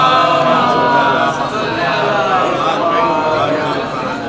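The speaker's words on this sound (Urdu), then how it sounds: "صلوات بہوز بلند۔" Large congregation at a majlis in Pune reciting salawat loudly together, a dense, continuous chorus of massed voices filling the hall with no pauses.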